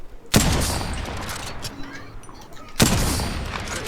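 Gunfire in the Apex Legends video game, with two loud, sharp bursts about two and a half seconds apart, each trailing off into a rumbling decay.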